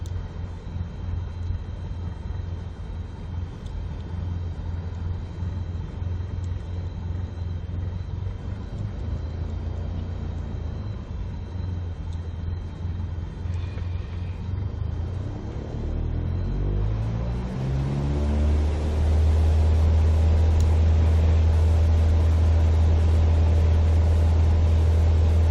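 A Cessna 172 piston engine runs up to full power at the start of a takeoff roll, its loud steady drone swelling and rising in pitch as throttle comes in, then holding a strong, even roar with propeller hum inside the cabin.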